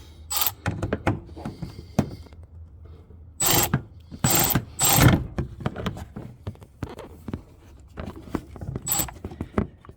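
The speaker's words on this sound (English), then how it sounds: "Alright guys, so let's go ahead and remove these screws." A ratchet fitted with a swivel backs out screws on the side marker of a 2021 Dodge Charger, giving quick bursts of close clicking. The bursts are separated by short pauses, with faint mechanical rattles in between and no speech.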